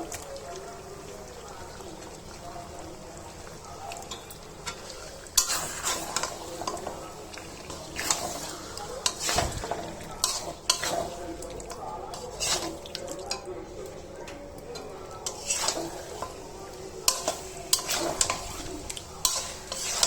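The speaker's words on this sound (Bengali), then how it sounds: "মশলার সাথে ভালোভাবে মাখিয়ে নিব।" Pieces of beef, about 1.5 kg, tossed and stirred with spices in a pot for beef tehari, giving irregular scraping clanks of a utensil against metal and soft wet squelches, close, with a voice talking throughout.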